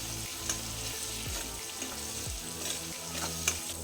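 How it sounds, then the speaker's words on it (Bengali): Chili and turmeric powder sautéing with tomato in a pan on a low flame for a mourola fish curry, giving a steady soft sizzle and frying crackle with occasional stirring scrapes throughout. "হাফ চা চামচ লঙ্কার গুঁড়ো, হাফ চা চামচ হলুদ গুঁড়ো দিয়ে 2-3 মিনিট লো ফ্লেমে মশলা কষিয়ে নেব।"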